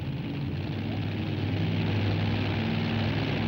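Mud racing drag vehicles in a Class 5 event at an outdoor mud pit in Essex Junction, Vermont, idle and rev steadily in a dense, continuous engine roar that holds at a constant level throughout.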